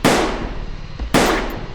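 Two sharp gunshot cracks ring out about a second apart, loud and close, each leaving a decaying echo, in a Doga action story.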